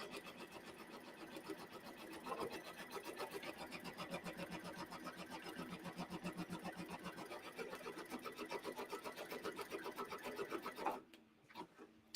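A sewing machine runs steadily for about eleven seconds, stitching fabric a quarter inch outside a box around batting, its rapid even needle rhythm close and loud before stopping abruptly, followed by faint handling noises.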